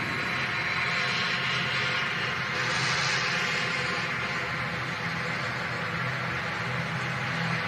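An EasyJet airliner rolls down the runway and lifts off at Manchester Airport, a broad, loud, sustained jet roar heard from a distance that holds steady throughout.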